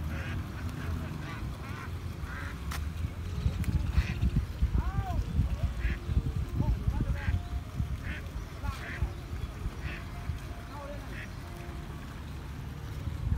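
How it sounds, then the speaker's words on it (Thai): Ducks quacking on the water along the Mekong riverbank in Nakhon Phanom, Thailand, a few scattered honks and quacks at a distance amid steady outdoor background noise, with someone talking throughout. "เป็ดเฮียลอยน้ำสบายเป็ด"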